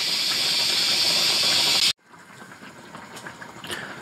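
Pork kimchi stew with tofu in a camping pot gives a loud steady bubbling hiss that cuts off abruptly, leaving a faint quiet background with soft clinks.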